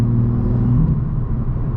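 Engine of a 2017 BMW M2 with a manual gearbox and turbocharger, heard from inside the car while driving: a steady, loud low rumble and drone with exhaust burble texture, continuous for the whole moment.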